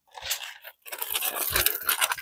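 Brat burger patties are pressed flat on a hot griddle with a smasher and parchment paper, giving crunchy, crackling sizzle bursts that briefly drop out before continuing steadily and close.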